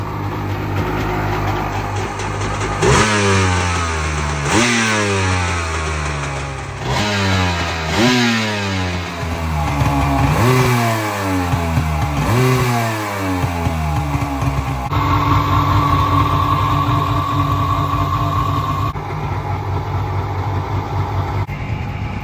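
A rebuilt 2000 Kawasaki Ultra 150 jet ski with a 120-horsepower engine runs loud and close. It gives a series of rising revs, one after another, then settles into a steady, higher drone.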